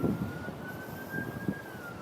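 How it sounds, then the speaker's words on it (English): A police siren wails faintly in the distance, one long sustained tone drifting slightly in pitch over a low outdoor background hum. "Besides the sirens."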